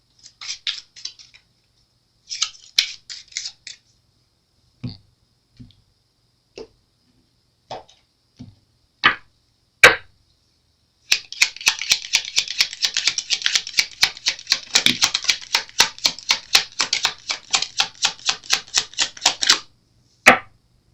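Kipper fortune-telling cards are shuffled and laid down in a quiet room, with scattered sharp snaps and slaps at first, then a long rapid riffling burst of crisp flicks, ending with a final card placed.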